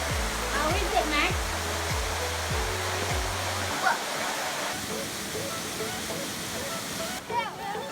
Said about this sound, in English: We went for a short walk to this waterfall.